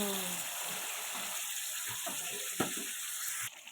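Potatoes sizzle in hot oil with a freshly fried, hot spice mix, a steady crackling hiss with occasional stirring knocks and a brief louder clatter before it quiets abruptly near the end.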